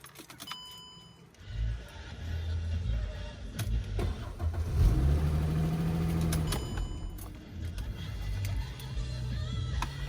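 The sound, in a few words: car engine starting and running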